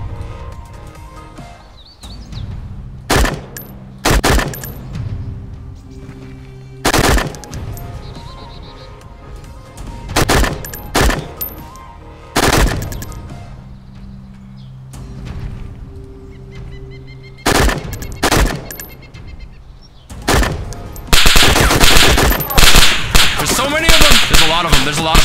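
Gunshots crack across an open field in DayZ Standalone, a dozen or so sharp reports at irregular intervals. Some come close together and a fast cluster follows at the end, each shot loud and snapping with a short tail.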